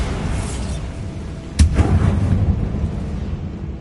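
The Bombarda explosion spell in the video game Hogwarts Legacy on PS5 lands as a single sharp, booming blast partway through, its rumble decaying over about a second against a low background hum.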